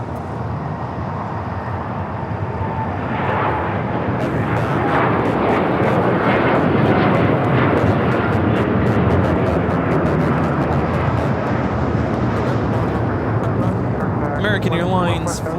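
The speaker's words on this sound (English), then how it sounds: "American Airlines Flight 7 Papa taking off to Brisbane on the 787-9 Dreamliner" A Boeing 787-9 Dreamliner takes off at Los Angeles airport, a loud, sustained broadband jet engine roar that swells after a few seconds and holds steady, with talk and radio chatter over it.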